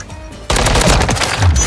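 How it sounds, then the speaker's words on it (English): A Modern Warfare 3 search-and-destroy match: a sudden loud, close burst of rapid gunfire, headshot impact sounds layered in, breaking a quieter stretch and continuing densely to the end. "Dude, that headshot sound effect sounds so good."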